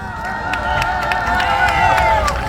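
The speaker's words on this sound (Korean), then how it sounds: "우리 민경호 의원님께 다시 한번 큰 격려의 박수 부탁드리겠습니다" Crowd at an anti-queer rally in Incheon breaks into steady clapping and applause, a broad wash of hands with some cheering mixed in, fairly loud and continuous throughout.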